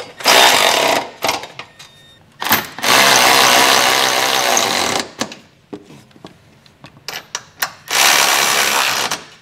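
An impact or power tool runs in loud bursts, tightening the trailer hitch bolts with an 11/16 socket on a 2022 Hyundai Tucson. Several long whirring runs are separated by short stops and a few brief taps.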